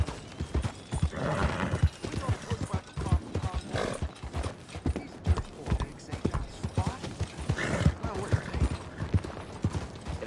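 Rapid clip-clopping hooves at a gallop in Red Dead Redemption 2, loud and continuous, with a horse whinnying over the rhythmic beats.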